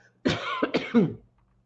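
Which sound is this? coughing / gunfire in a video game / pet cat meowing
coughing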